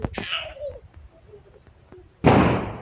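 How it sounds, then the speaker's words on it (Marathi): A couple of far-off Diwali firecracker bangs, the last one louder with a rushing burst, over quiet background with faint distant noise. "आमच्या इकडे सगळे फटाके फोडत आहेत, पण खूप दूर आहेत ते आमच्यावर"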